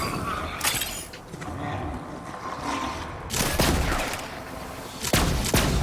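A charge-and-release weapon firing in Borderlands 3, loud sharp blasts at intervals over a rumbling combat background, with a heavier cluster of shots partway through and another burst at the end.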